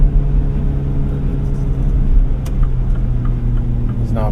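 A 2025 MINI Countryman S ALL4 engine drones steadily while driving, with a low, even hum and road rumble that hold at a constant, close level throughout.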